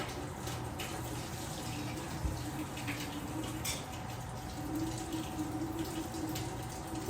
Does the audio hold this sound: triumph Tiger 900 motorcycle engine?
no